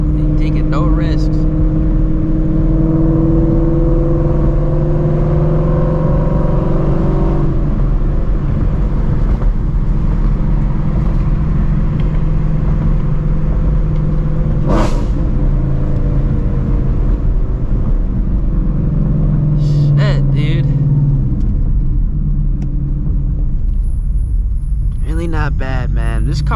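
Shelby GT350 Mustang cruising at night on wet roads, its engine droning loud and close from inside the cabin with shifting tones as it accelerates and eases off, a few sharp clicks along the way.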